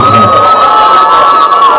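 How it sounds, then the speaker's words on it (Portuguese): Audience at the Miss Belas 2016 beauty pageant gala bursts into loud, sustained cheering and shouting, close and dense, with a steady high whistle-like tone running through the crowd noise. "Aos vossos aplausos, Vatiara Venha Vati."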